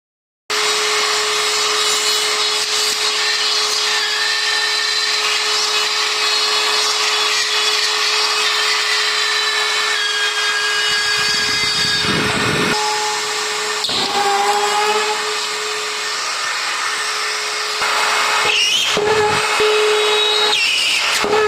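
A DeWalt DCE555 cordless multi-purpose cutter runs steadily for a long stretch, a bright whining motor with a constant tone, briefly dipping and changing pitch as the blade bites into material, close and loud.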